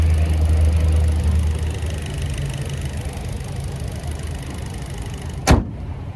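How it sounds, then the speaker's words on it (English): An 18-wheeler truck's engine braking produces a deep low rumble, loudest at the start and fading to a steady background drone, with a sharp knock near the end. "Hopefully y'all could hear that over the freaking 18-wheeler's engine braking"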